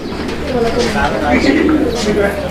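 Lahori pigeons coo softly and repeatedly at close range in a bird market setting, low throaty calls layered over a murmur of people talking in the background.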